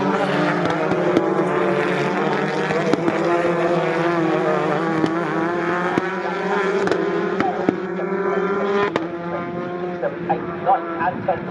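British Touring Car Championship cars racing at Snetterton, engines roaring steadily, their pitch rising as they pass two abreast, with some wind noise over the microphone and a voice talking over the top.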